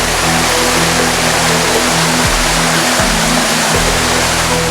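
Fast river current rushing in a flash-flood zone in Aceh, near an emergency log bridge put up by soldiers and police; a dense, steady roar of water fills the whole clip, with low engine-like hum beneath.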